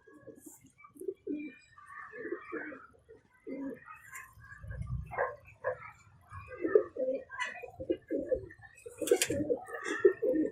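Low, throaty coos of a pearl-spotted bagha pigeon repeat in soft bursts, close by, with faint chirps and occasional talking mixed in.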